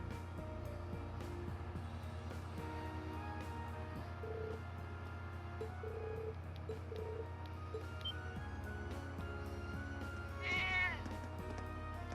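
A cat meows once near the end, fairly close, over steady background music in the video game The Legend of Heroes: Trails of Cold Steel.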